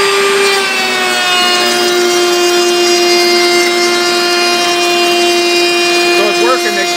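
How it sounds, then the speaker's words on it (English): A power feeder drives hardwood past a router fitted with a 45-degree chamfer bit, making a loud, steady motor whine with strong tonal harmonics that holds for several seconds before a brief rising cutting sound near the end. "So now we'll start the power feeder. The hardwood here, and I've got a 45 chamfer bit in it."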